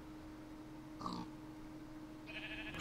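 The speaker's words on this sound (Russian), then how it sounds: "О, есть одна свинья упала." Pig grunts from a Minecraft farming game, one short grunt near the middle followed by a higher, brief game noise at the end, over a faint steady background hum; no talking.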